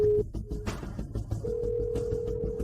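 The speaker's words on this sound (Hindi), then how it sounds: "फोन उठाओ, फोन उठाओ।" A telephone rings unanswered, a steady electronic ringing tone that cuts off and resumes, loud and close, repeating with no one picking up.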